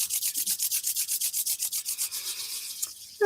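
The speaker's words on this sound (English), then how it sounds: "But let's just rub our hands." Palms rub briskly together in a fast, even back-and-forth rhythm, about a dozen strokes a second, close and loud, slowing slightly before stopping.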